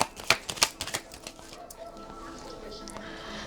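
Tarot cards are shuffled and drawn close up, giving a few sharp riffling snaps at the start, then softer shuffling and sliding card noises that fade into a quieter rustle.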